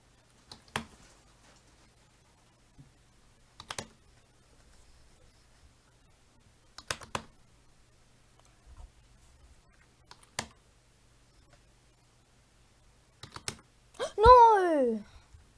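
Sharp, isolated computer mouse clicks spaced several seconds apart in a quiet room, followed at the end by a brief burst of voice.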